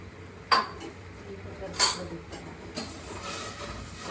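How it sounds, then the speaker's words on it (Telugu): Whole cardamom pods being pounded into powder in a home kitchen: a few sharp, bright metallic strikes spaced about a second apart, fairly faint against low room noise. "యాలకి పొడి దంచేస్తాను."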